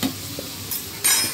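Egg bhuna with garlic paste being stirred in a sizzling pan, with brief spatula scrapes over a soft frying hiss and a louder burst of sizzle at the end.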